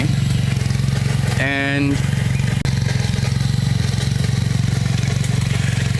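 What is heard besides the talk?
cultivator engine running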